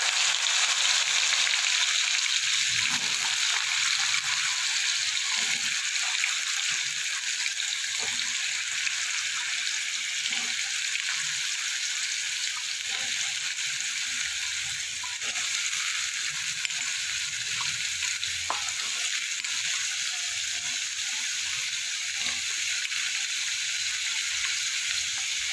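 Cut potatoes sizzle steadily in a pan with a pinch of asafoetida, a constant hissing fry with occasional light clinks and stirring sounds, no voices.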